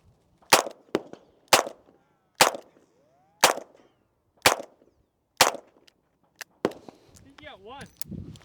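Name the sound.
handgun shots fired at targets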